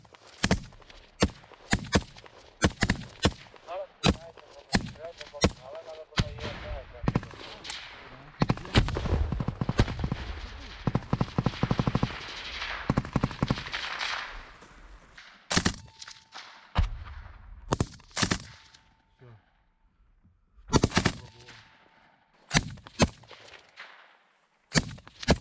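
Gunfire in combat during a Ukrainian offensive, dense bursts of sharp rifle and automatic shots cracking in rapid strings, some close and loud, others more distant, with pauses and scattered single reports.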